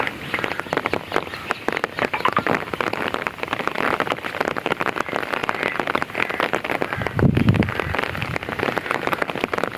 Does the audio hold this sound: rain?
yes